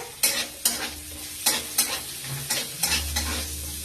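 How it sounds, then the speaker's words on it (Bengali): Onion and capsicum frying in a pan while being stirred: a continuous close sizzle punctuated by about eight sharp scraping strokes of the spatula at an uneven rhythm, with no voices. "ক্যাপসিকামটা দিয়ে নাড়তে নাড়তে টমেটোটাও আমি দিয়ে দিচ্ছি, দিয়ে আমি নাড়তে থাকছি"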